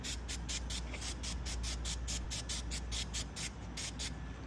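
Adam's tar remover sprays onto car paint in a quick, regular series of hissing trigger bursts, about three per second, over steady background noise.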